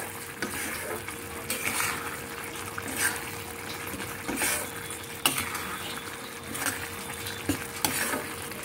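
Punjabi torka is stirred and mixed in a pan, soft rhythmic scraping strokes over a low, steady simmering sizzle, fairly quiet and close, with no talk.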